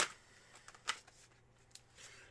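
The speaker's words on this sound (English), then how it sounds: "Here are your 6 official shuffles." Tarot cards are shuffled in a few quiet, quick riffles and soft flicks close by, with no talk.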